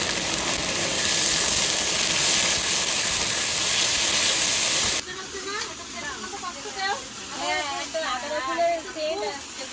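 Ginger, green chili and garlic frying with onions in a pan, a loud steady hiss and sizzle for the first half, then a quieter sizzle under a voice.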